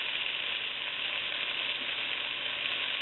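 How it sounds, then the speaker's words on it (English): Beef broth is poured into a hot pot of stew with onion wedges, giving a steady, loud, close sizzle and frying hiss throughout, with no voices. "And now I'm going to add the beef broth."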